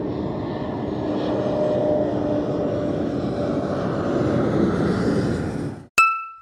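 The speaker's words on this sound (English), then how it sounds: "Do you see it flying high?" An aeroplane passes overhead with a steady, loud engine roar for several seconds before the sound cuts off abruptly, followed by a short sharp tone.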